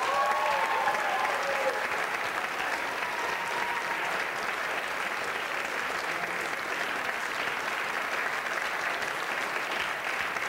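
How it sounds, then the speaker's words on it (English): Audience applause for a live show's sound engineer, a sustained wash of clapping from a crowd that holds steady for about ten seconds without fading, with no speech over it. "So, big hand for Casey Chulanko."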